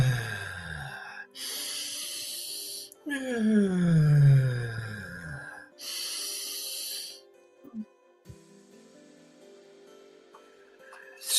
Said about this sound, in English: Do the breathing and the constriction of the mouth, the O-ring, we call this.